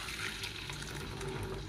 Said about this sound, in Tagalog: So, itatapon natin yung tubig.